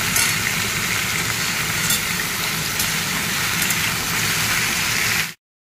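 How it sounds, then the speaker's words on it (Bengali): Taro and potato pieces fry in a pan, giving a steady, fairly loud hiss of sizzling oil that holds unchanged for about five seconds, then cuts off abruptly. "কচুগুলো দিয়ে ভালো করে ভাজাভাজি করবো"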